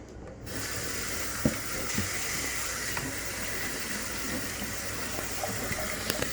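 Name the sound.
rinsing shirataki noodles with cold tap water in strainer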